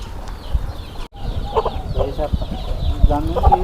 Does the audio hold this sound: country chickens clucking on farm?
yes